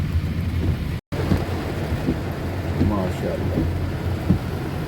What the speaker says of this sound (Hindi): थोड़ी सी देर ही बारिश हुई है